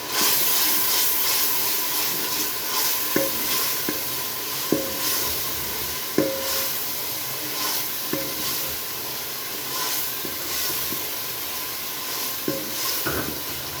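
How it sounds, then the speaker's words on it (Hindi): Steady sizzling and hissing of garlic-ginger paste frying in a hot pan, with occasional scrapes and clinks of a spoon stirring throughout. "लहसुन अदरक का पेस्ट को हम 2 मिनट के लिए फ्राई कर लेते हैं।"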